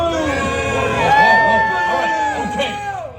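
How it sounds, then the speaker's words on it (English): A live audience boos loudly and ruthlessly at Scrooge, cast as the villain in a Deadpool Christmas-carol story time, with many overlapping voices in a sustained, wavering jeer. "You can boo him ruthlessly."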